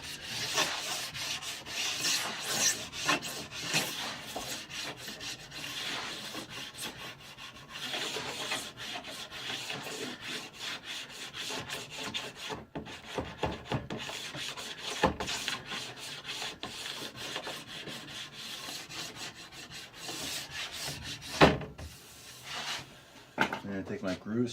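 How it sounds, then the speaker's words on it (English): Repeated scraping of wax from the base of a Nordic ski with a plastic scraper, dense rasping strokes at close range that continue without a break, with speech over parts of it. "we're going to take our scraper and seemingly scrape all the visible wax off"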